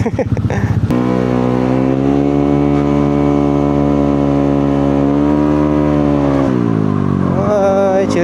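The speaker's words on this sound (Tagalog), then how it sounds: "bulabog tong motor na to" A motorcycle engine revs up sharply, then holds a loud, steady high-pitched drone close by before the pitch drops and it revs again at the end.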